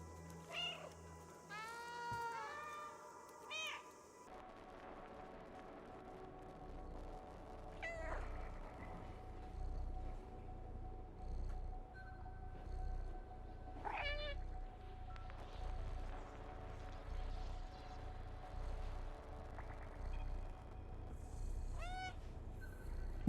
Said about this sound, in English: there's a dedicated meow button